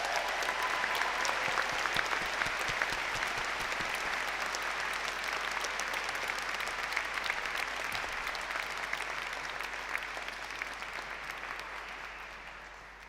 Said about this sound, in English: So please join me in a round of applause for us,